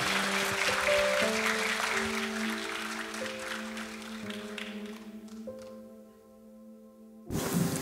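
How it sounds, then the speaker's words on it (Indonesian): A church congregation stands and applauds to welcome a speaker, the clapping blending with sustained music before it fades and briefly swells again at the end. "berikan tepuk tangan buat Pak Danny Hermanus"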